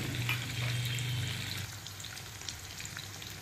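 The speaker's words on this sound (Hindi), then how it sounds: "पनीर हमारी अच्छे से तल रही है, ये देखिए।" Paneer frying in hot oil in a kadhai makes a dense, close crackling sizzle that runs steadily throughout, with a low hum underneath during the first half and no voices.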